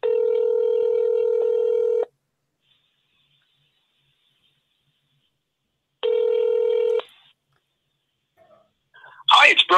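Two long ringback tones on an outgoing phone call, a steady electronic ring lasting about two seconds, a pause of silence, then a second ring cut short as a voice begins answering.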